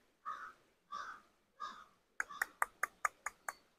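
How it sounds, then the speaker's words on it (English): A crow flying over in northern Nova Scotia caws three times, then gives a quick run of seven or eight sharper, clipped calls, fairly close and with no other sound around it. "Crow going over it."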